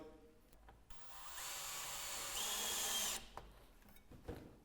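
A power tool whirs for about two seconds, tightening a screw on a Velux Integra electric roof window, rising to a steady close drone before stopping, with faint handling taps around it.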